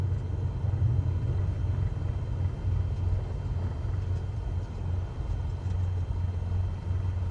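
Steady low rumble of an aircraft rolling and braking to a stop on a runway after landing in Microsoft Flight Simulator 2024, a continuous loud engine and wheel drone with no talking over it.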